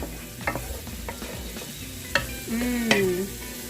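Two tablespoons of onion sauté in a pan over medium-low heat, with a soft sizzle under intermittent spatula taps and scrapes and a brief squeaking scrape near the end, all close by.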